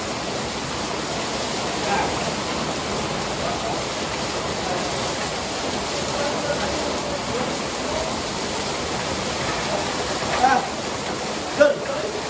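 Steady rain pours down in a continuous broadband hiss that stays even throughout, with a couple of brief louder knocks near the end and no talking.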